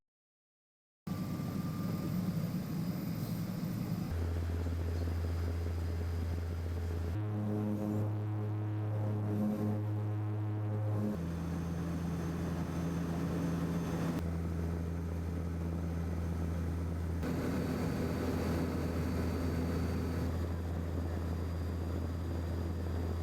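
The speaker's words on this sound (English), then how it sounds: "We, however, boarded a smaller Twin Otter for a flight in the other direction." A Twin Otter propeller aircraft flying over the forests, lakes and fjords of Chilean Patagonia makes a continuous droning hum from inside the cabin, with the engine pitch shifting slightly partway through.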